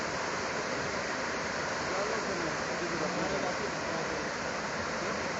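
Water pours through the opened spillway of Khanpur Dam in a loud, continuous roar of rushing flow, broad and steady with no break.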